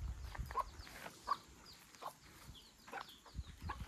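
A hen clucks repeatedly in short, fairly faint bursts near a farmyard, with steady low background ambience and no talking.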